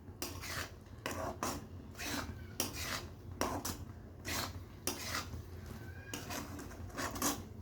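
Boondi being stirred through sugar syrup in a pan for motichoor laddu, a run of close scraping, rubbing strokes with light metallic clinks, steady and fairly rhythmic.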